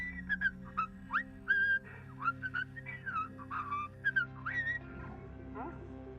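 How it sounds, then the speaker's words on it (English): A character whistles in Hardspace: Shipbreaker, a spaceship-salvaging video game: short, bright whistled phrases with rising and falling glides, repeated throughout over a low, steady mechanical hum. "Who's whistling? No whistling!"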